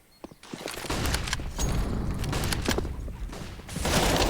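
Rapid bursts of MAC-10 submachine gun fire crackle in a Counter-Strike match, fast automatic shots layered over dense gunfire and game effects, loud and sustained with short gaps.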